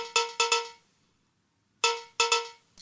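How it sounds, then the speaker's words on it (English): A spray can struck with something hard rings out with bright, bell-like metallic tones: a quick run of three hits, a pause, then three more, each decaying smoothly, close and clear. "I also picked this spray can hit."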